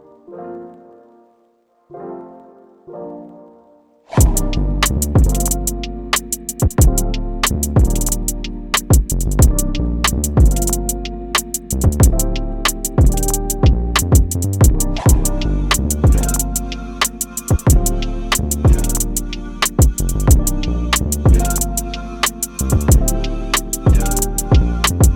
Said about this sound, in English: I'm gonna go ahead and put this on another track to Space Dust from Arcade,